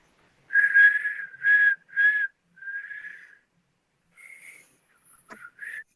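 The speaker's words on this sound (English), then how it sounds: "Have you made any progress on your whistling?" A person whistles a series of sustained, breathy tones, several long notes in a row then a few shorter ones after a pause, close and clear in a quiet room.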